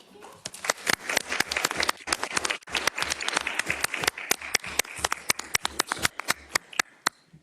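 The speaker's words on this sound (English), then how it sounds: "for you, we're doing a full applaud" A room at a legislative session bursts into sustained applause for a legislator, many hands clapping steadily and fairly close for several seconds before it tapers off.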